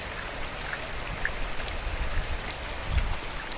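Heavy rain pours steadily on a village rooftop in Uttarakhand, a dense continuous hiss with scattered heavier drops and splashes, close and loud throughout.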